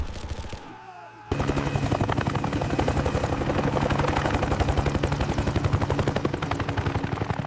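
Rapid, loud machine-gun fire keeps up an even, relentless rhythm for several seconds, aimed at giant pythons in farm fields. A brief quieter stretch comes first.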